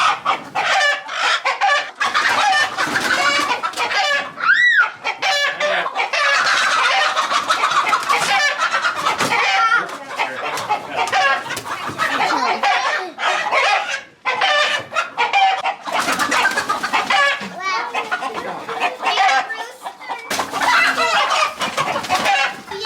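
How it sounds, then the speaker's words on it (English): Flock of chickens being loaded into a movable coop built for up to 100 birds, clucking and squawking continuously and loudly up close, with a rooster's crow rising briefly among them. "Got some chickens in there."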